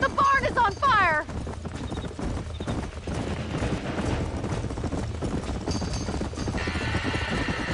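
Horses whinny sharply at the start inside a burning barn amid a chaotic, noisy background of crackling fire and shouting voices, in the video game Red Dead Redemption.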